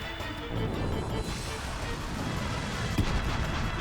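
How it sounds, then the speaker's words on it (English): A fire pillar spell effect in the video game Chrono Cross, heard as a dense, rumbling roar of flames with crackling bursts and a sharper impact near the end, loud and sustained throughout. "I'm gonna go ahead and use another fire pillar."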